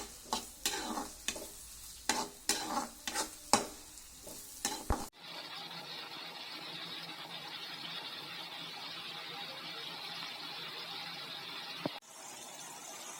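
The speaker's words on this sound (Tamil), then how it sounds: "இதுல வந்து கட் பண்ணி வச்சது வெங்காயத்தை சேர்க்கிறோம். இந்த மாதிரி வெங்காயம் வந்து ப்ரௌனிஷ் ஆகிற வரைக்கும் வதக்கணுங்க." Chopped onions sautéing in hot oil for paneer bhurji, first a run of sharp spatula scrapes and clicks, then a steady close sizzling hiss.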